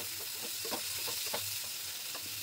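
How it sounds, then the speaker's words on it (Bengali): Sliced onions fry in a pan for a prawn bhuna curry, a steady close sizzle broken by soft scraping stirs at an irregular rhythm, with no talk. "আর একটু সুন্দর করে পেঁয়াজগুলোকে ভেজে নেবো বন্ধুরা।"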